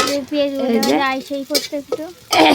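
Onions fry in a pan with a steady sizzle while being stirred, light scrapes and clinks cutting in; a voice sounds in short tonal phrases over the cooking.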